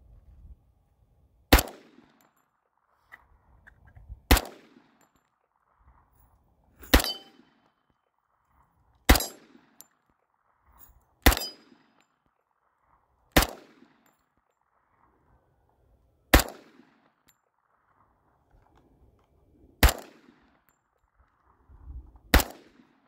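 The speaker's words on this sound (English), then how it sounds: "let's take a couple shots." FNX 45 Tactical pistol firing single shots at steel targets, nine sharp reports spaced a few seconds apart, each followed by a ringing clang and short decay, no talk.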